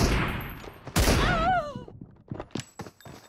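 Sniper rifle shots in a sniper-only 2v2 shooter game, a loud close crack at the start and another heavy shot a second later, followed by a few smaller distant pops, with little talking.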